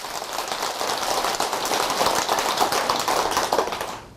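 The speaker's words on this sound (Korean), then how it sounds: "박수 한번 드리세요." Applause from a seated audience at a Buddhist monk's dharma talk, dense steady clapping filling the room for about four seconds before trailing off at the end, with no voices over it.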